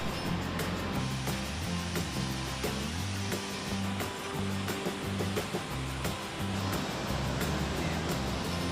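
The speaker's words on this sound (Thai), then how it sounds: "ในที่สุดนะครับเราก็มาถึงจุดชมน้ำตกสลัดใดแล้วนะครับ" Steady, loud roar of the Salad Dai waterfall in Nakhon Nayok, a broad, continuous rush of falling water filling the scene without pause.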